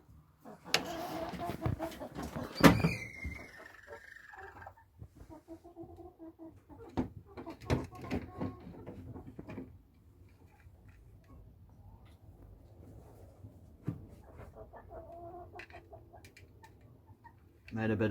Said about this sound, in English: You can hear her squealing there.